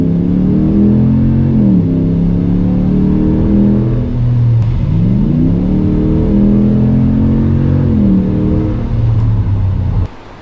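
A Hellcat-swapped Dodge RAM 1500 pickup's engine revs repeatedly up and down in loud, close blips, the deep throaty rumble swelling and dropping several times before cutting off at the end.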